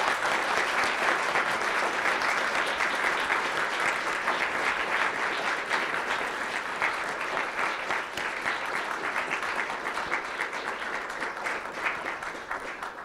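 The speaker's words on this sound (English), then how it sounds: "So I'll give a round of applause to our debaters," A university debate audience applauding the debaters, a steady, dense wash of clapping from a large crowd that holds evenly throughout without talk.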